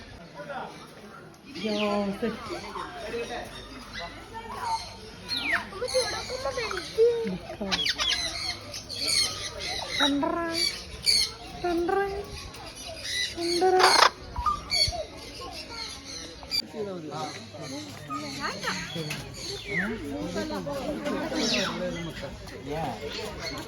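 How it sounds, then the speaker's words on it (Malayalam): Small birds chirp and squawk in quick, scattered bursts throughout, mixed with people talking nearby. "കുഞ്ഞി ബേർഡ്സ് ഉണ്ട്"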